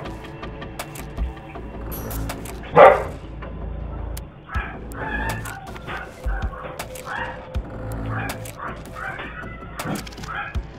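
Dog barking and yipping at night, a few sharp barks with one louder outburst early on, heard amid rain-like background noise and faint rustling.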